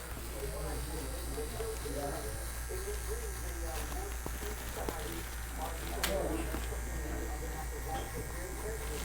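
An electric hair trimmer buzzes steadily during a self-cut bald fade, with short cutting passes and someone talking over the hum.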